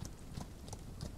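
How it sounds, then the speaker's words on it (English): Belgian draft horse hooves clip-clop in the video game Outlaws of the Old West, a quiet, faint run of three or four evenly spaced hoof strikes on hard ground. "Belgian draft horses."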